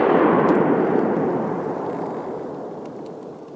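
A single distant gunshot from a duck hunter booms, then its rumbling echo rolls out and slowly fades across open country.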